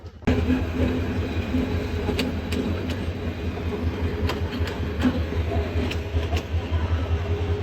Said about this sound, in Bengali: এই ট্রেন আমাদের নিয়ে যাও, এই ট্রেন নিয়ে যাও, থামাও, এই ট্রেন থামাও